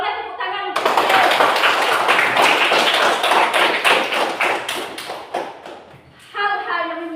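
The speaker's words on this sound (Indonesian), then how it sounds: "Boleh tepuk tangan untuk Jibril" Children in a classroom break into loud, dense applause for a classmate that lasts several seconds and then tapers off, with a teacher's voice speaking just before and after.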